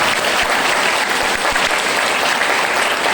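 Loud, dense applause from an audience at a motivational speech by Mahaveer Saharan at an RCM gathering, a close, continuous wash of clapping lasting a few seconds with no voices on top.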